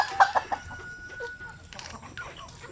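Backyard pet chickens cluck softly nearby in a quick series of short calls, then murmur on more faintly with light background sounds.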